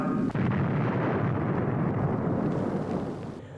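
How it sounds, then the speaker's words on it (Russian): A deep, sustained rumbling roar of a nuclear explosion, starting with a sharp onset and slowly fading over a few seconds. "Это самый настоящий ядерный взрыв."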